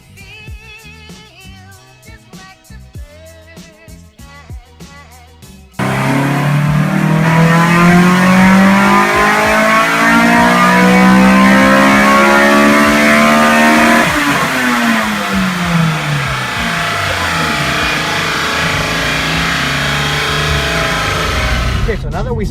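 Honda Civic Type R accelerating hard on the road, its engine rising in pitch through the gears with a loud, continuous roar after a quieter opening few seconds.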